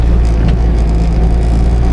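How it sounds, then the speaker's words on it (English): Car rolling along a rough dirt road, with a low, steady rumble and broadband road noise, close and loud, with no talking. "it's a rough road, my dirt road I'm going down"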